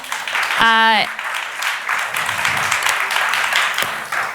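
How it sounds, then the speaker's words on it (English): Audience at a product marketing conference breaks into a round of applause, following a short sung or hummed tone near the start; clapping stays steady and fairly loud throughout. "Round of applause."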